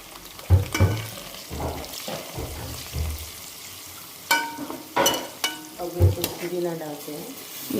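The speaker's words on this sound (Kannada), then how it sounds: "ಈರುಳ್ಳಿ ಹಾಕಿದ್ದೀವಿ. ನೋಡಿ ಈ ಥರ ಫ್ರೈ ಮಾಡಬೇಕು." Onions frying in a pan for tomato rasam, a continuous crackling sizzle broken by several sharp stirring clatters and scrapes, louder in the second half.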